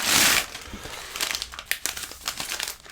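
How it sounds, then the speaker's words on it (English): Plastic packaging around tea bags from a subscription box crinkles and rustles up close, with a loud opening burst followed by steady irregular crackling and crumpling handling. "Apologies for the rustling."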